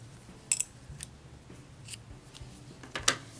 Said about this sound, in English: I'm going to cut my yarn.